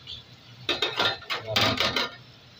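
A metal lid lifted off a pan of fish curry masala cooking on a gas stove, heard as a few close clattering clinks and scrapes, fairly loud and with no speech.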